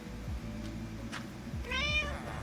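Brief cat meow from a Minecraft survival multiplayer game, one clear mewing call near the end over a low background hum.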